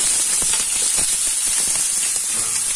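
Sliced onions sizzle in hot oil in a pan for chicken samosa filling, a loud, close, continuous hiss with crackling spatters and no talk.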